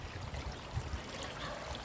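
Water flows steadily across eroding ground where a flood channel is eating away the land, a faint, continuous rushing trickle with low rumbling underneath.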